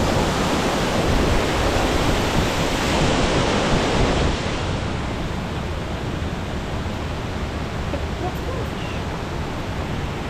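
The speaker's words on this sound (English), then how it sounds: "I watched the waterfall" Waterfall at Kulen Mountain in Cambodia, a steady loud roar of falling water that fills the clip, with a slight drop in level partway through.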